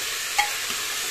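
Cauliflower curry sizzling in hot oil in a pressure cooker, a steady, fairly quiet frying hiss with one brief stir or clink partway through; no voices.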